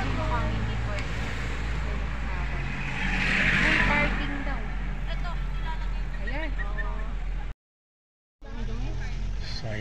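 Inside a car pulling in to park at a mansion house, a steady engine hum and road rumble carry under frequent talking voices, with a brief total dropout near the end.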